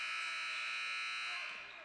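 A buzzer sounds at the end of a quarter in a girls' basketball game between the Broncos and the Lakeland Dreadnaughts: a loud, steady electronic tone held for nearly two seconds before it begins to fade.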